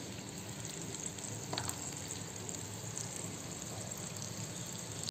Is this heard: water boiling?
yes